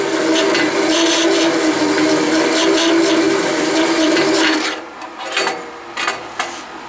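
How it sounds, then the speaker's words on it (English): A converted Delta bandsaw with a fine-tooth blade slowly cutting through one-inch-thick metal on a DC VFD drive, giving a steady, loud grinding rasp that runs continuously before easing off into lighter intermittent scraping near the end. "Real slow cutting, but it's thick metal with a fine tooth blade."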